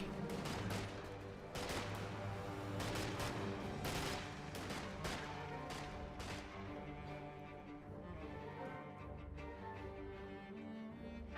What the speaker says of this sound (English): MG34 firing away, hits the airborne squad.